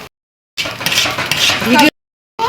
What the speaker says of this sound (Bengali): সুজিগুলিকে দারুণভাবে পাক দেওয়া হলো